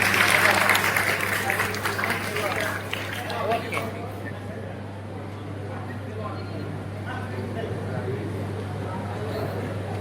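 Applause from an audience honouring a student at a prize ceremony in Dholka, Ahmedabad, loud and dense at first, then thinning into a faint murmur of the crowd over a steady low hum.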